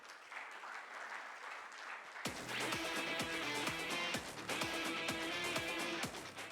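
Audience applause at a CXO cybersecurity and AI conference, following a keynote: a soft wash of clapping swells into a loud, dense ovation over a steady musical backing with a recurring beat.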